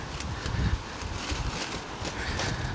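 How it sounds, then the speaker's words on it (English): Gusty wind buffets the microphone outdoors at the Great British Car Journey, a display of 1950s and 1960s classic cars, as a steady rough rumble and hiss that continues throughout with no speech. "It's windy and we're again here at the Great British Car Journey"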